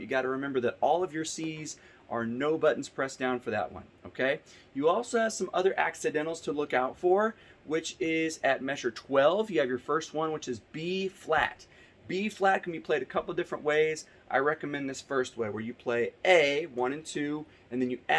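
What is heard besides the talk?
None of the usual background noises is heard.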